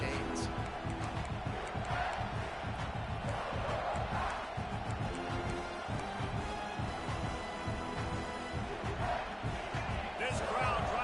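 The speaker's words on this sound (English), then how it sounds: "This crowd trying to make life miserable for this offense." A stadium crowd at an American football game keeps up a loud, continuous roar and murmur, with a commentator talking over it throughout.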